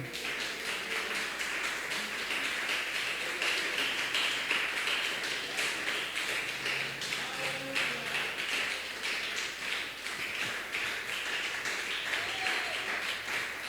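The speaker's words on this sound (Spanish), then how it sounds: "denles aplauso al Señor" A church congregation applauding at a youth service, a steady, dense wash of clapping that holds at an even level throughout, with no voices standing out over it.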